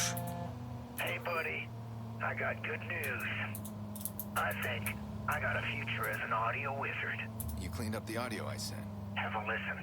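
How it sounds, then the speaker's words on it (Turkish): A phone rings in the video game Watch Dogs with repeated patterned electronic bursts over a steady hum from the game's sound. "Evet telefon geliyor."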